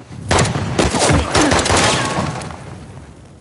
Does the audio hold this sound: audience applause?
no